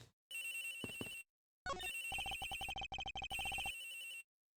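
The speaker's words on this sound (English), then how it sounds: "The ringing is coming from somewhere around here." A telephone in the Ace Attorney Investigations video game rings in bright electronic trills, two ringing bursts separated by a short gap, clear and steady with no voices over it.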